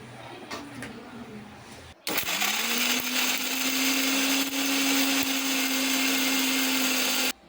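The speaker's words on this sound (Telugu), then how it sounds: "టమాటాలు కూడా మనం కచ్చపచ్చగా పెద్ద ముక్కలుగా కట్ చేసుకుని మిక్సీ జార్లో వేసుకుని ఇవన్నీ కొంచెం మెత్తగా గ్రైండ్ చేసేసుకోవాలి" A kitchen mixer grinder blends chopped tomatoes and onions: after a brief clatter the motor whirs loudly and steadily for about five seconds, then stops abruptly.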